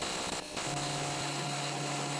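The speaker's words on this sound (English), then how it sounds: "The next step is sandblasting the metallic pieces." Sandblasting the metal parts of an antique bread slicer produces a short, steady hiss with a whining tonal edge, close by and fairly faint.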